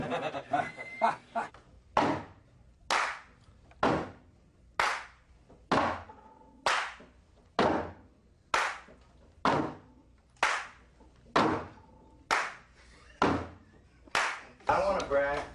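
Rhythmic stomp-clapping at a Queens of the Stone Age recording session, about sixteen sharp, evenly spaced hits in a steady beat, loud and close, with a brief burst of voices at the start and end.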